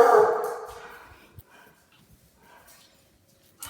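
A pet dog at home gives one loud, close bark-like yelp at the start. It fades over about a second, then only quiet shuffles and small taps remain.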